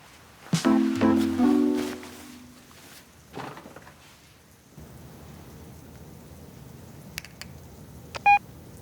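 A telephone dials near the end as a few short, clear electronic beeps, following earlier rumbling thunder and a steady hiss of rain.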